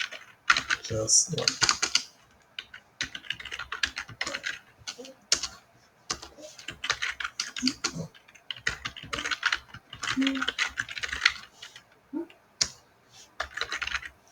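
Steady typing of code on a computer keyboard, with quick clusters of crisp key clicks and short pauses between bursts, close and clear, under occasional quiet speech.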